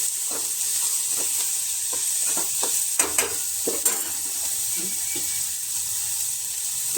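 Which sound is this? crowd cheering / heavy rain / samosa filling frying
samosa filling frying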